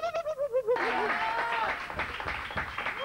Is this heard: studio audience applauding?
yes